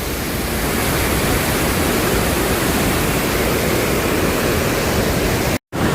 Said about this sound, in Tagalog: Maagos yan pababa o.